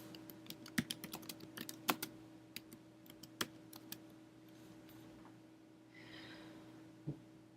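Computer keyboard typing search keywords into a literature database: a run of quick, crisp keystrokes with irregular rhythm and a steady background hum, fading to a softer rustle near the end.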